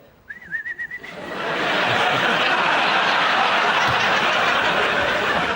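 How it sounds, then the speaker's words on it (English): Someone whistles a short, warbling birdlike trill near the start, then loud applause and laughter from a studio audience swell and drown everything else. "They start doing the little bird noises and all that stuff, right?"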